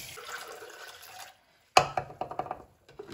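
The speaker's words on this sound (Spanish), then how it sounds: "le voy a agregar 1 taza de agua" A cup of water is poured into garbanzo soup, a short burst of splashing and gurgling after a pause, fading into a few drips.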